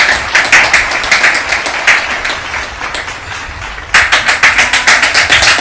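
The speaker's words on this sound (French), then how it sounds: "Voilà, sous vos applaudissements s'il vous plaît." Audience applause at a school quiz final for Collège Petit Prince finalists, loud dense clapping sustained throughout with a brief dip before swelling again.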